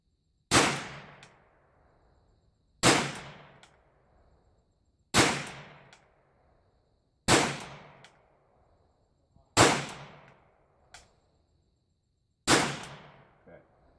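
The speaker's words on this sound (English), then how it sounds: "We'll do one group with single action, and we'll do 6 shots with double action" A 112-year-old French Modèle 1892 Lebel revolver in 8mm French Ordnance fires six single-action shots at a center-of-mass target, each a sharp, loud report with a quick decaying tail, spaced about two seconds apart with no talk between.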